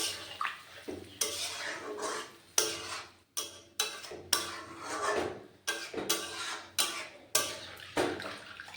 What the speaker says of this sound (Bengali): এবার জলটা দিয়ে দিলাম।